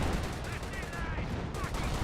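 Dense, continuous rumble of an artillery barrage in the World War II strategy game Company of Heroes, with booms and crackling gunfire blending into a loud, unbroken wash of battle noise.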